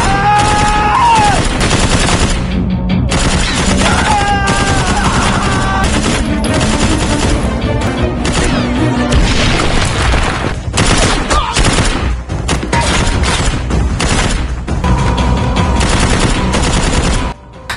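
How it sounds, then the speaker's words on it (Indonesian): Rapid bursts of gunfire crackle almost nonstop in a shootout, volleys and single shots overlapping with a dense, chaotic din, loud and close. "Dia pun langsung menembak tuh cermin hingga terjadi baku tembak."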